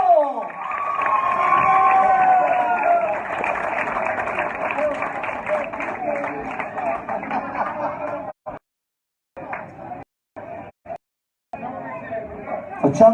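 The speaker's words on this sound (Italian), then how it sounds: "c'è un applauso forte e un applauso fortissimo per colui" Loud, sustained audience applause mixed with crowd noise at a live concert in Canegrate, steady for about eight seconds, then breaking into short bursts separated by silent gaps.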